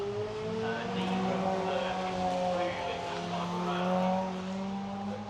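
Racing cars, including single-seaters, circulate at Brands Hatch during an Italian Festival meeting. Steady engine drones come from mid-distance, with sustained tones that rise slightly and continue under commentary.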